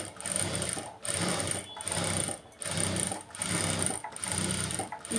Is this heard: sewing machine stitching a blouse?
yes